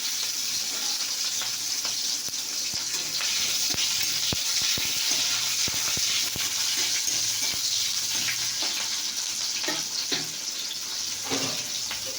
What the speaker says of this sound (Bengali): দেখো বন্ধুরা, আমার তেল হয়ে গেছে, পেঁয়াজ দিয়েছি